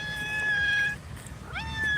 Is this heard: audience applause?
no